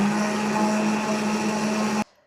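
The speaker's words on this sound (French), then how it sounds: "je vais maintenant les passer au mixeur plongeant" An immersion blender purées cooked garden vegetable soup with a steady, loud motor whine that runs continuously, then cuts off abruptly near the end.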